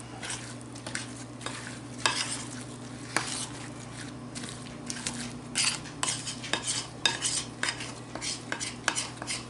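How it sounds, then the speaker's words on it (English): Two apples being stirred into banana bread batter with a utensil, giving soft wet squishing and scraping sounds against the bowl in an irregular rhythm, close and fairly quiet. "So I'm just going to stir in the 2 apples."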